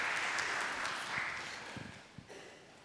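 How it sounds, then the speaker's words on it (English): Church congregation applauding during a livestreamed worship service to celebrate members' birthdays, a soft, fairly distant wash of clapping that fades gradually over about three seconds. "Give them a round of applause for their birthday."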